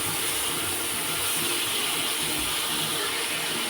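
Prawns fry lightly in oil in a kadai for a prawn malai curry, a continuous dense sizzle and hiss that stays level throughout with no talking.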